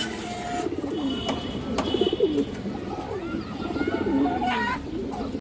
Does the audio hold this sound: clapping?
no